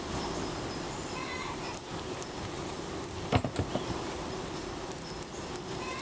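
Honey bees hum steadily inside a hive box as a package is installed, a dense continuous buzz with a few brief knocks partway through.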